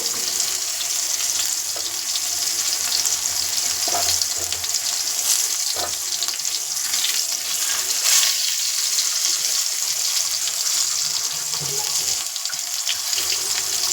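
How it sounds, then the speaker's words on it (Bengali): Eggplant frying in a pan gives a loud, continuous hiss and sizzle, with occasional soft knocks, and no voices. "বেগুনটা লাল লাল করে ভেজে দেবো।"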